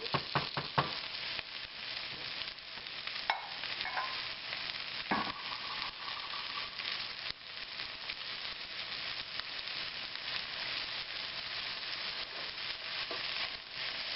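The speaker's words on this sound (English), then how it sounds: "I cook the mushroom for about 2 minutes." Sliced mushrooms with a pinch of salt sizzle in a hot stir-fry pan for a bok choy dish, a steady crackling fry with occasional clatter as they are stirred, close and continuous without talk.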